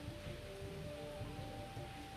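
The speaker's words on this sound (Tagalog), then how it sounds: "biglaan ang buhos ng ulan dito nga sa bahagi ng Tondaligan Beach" Sudden heavy rain pours down at Tondaligan Beach in Dagupan City, a steady dense hiss of downpour with no voices, broad and continuous throughout.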